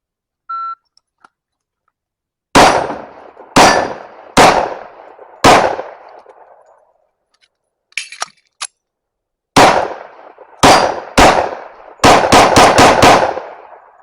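Eleven loud, close gunshots from a 1911 pistol fitted with a single-port compensator: three spaced single shots, then a rapid string of shots at the end.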